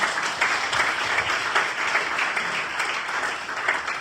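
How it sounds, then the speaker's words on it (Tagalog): A church audience applauds the Lord, many hands clapping in a sustained, even burst that stays loud throughout. "Palakpak para kay Lord."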